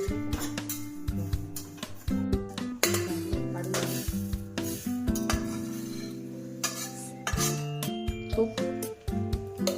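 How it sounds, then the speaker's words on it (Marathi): Sesame seeds are roasted and stirred in a metal pan, with a spoon scraping and clinking against the pan in rapid irregular knocks, some ringing metallic tones and a faint sizzle, close and fairly quiet. "आता तीळ भाजून घेऊ."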